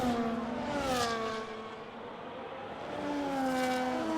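A racing car's engine powers away on an out lap at Belgium in a racing video game, a steady whining drone whose pitch climbs, dips slightly, then rises again through gear changes.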